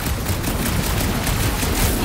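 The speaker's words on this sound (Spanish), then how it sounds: "¿Intentas solucionar todo a base de disparos, Peter?" Dense, continuous gunfire and blasts fill a battle in the Guardians of the Galaxy video game, a loud crackling fusillade with no pauses throughout.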